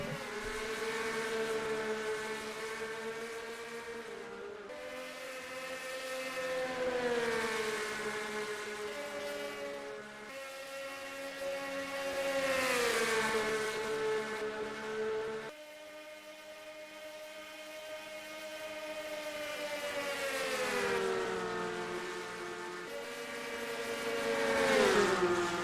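Race car engines on a dirt track in a racing video game drone loudly in long rising and falling waves as the field accelerates, with steady sustained tones and no talk over them.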